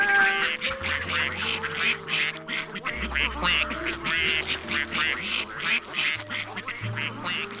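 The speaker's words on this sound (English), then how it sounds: "Ducks!" Cartoon ducks being fed quack over and over in quick, bouncy bursts above a light musical score, several calls overlapping at close range.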